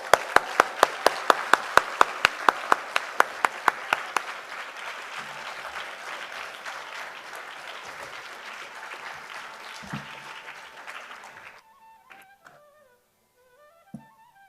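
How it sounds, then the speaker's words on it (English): Hall audience of several hundred claps in loud, evenly spaced unison beats, then breaks into dense, sustained applause that fades out into near quiet with faint tones. "A huge round of applause."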